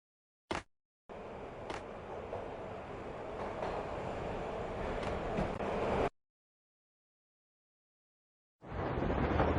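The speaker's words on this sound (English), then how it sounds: "This was my second train ride of the night." In Max Payne Mobile, a train ride with wind comes through as a steady, fairly loud rumble and rush for about five seconds, then breaks off and comes back later.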